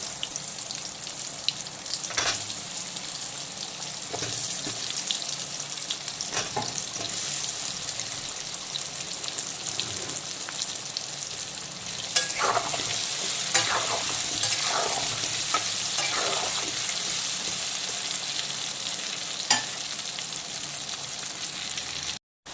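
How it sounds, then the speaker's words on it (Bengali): Potatoes coated in turmeric deep-fry in hot oil, giving a continuous close, bubbling sizzle with scattered crackles and occasional stirring clatter. The frying is louder and busier in the second half. "আমি হলুদ মাখানো আলুগুলোকে তেলের মধ্যে দিয়ে দেব আর আলুগুলোকে কিন্তু খুব ভালো করে ডুবো তেলে ভেজে"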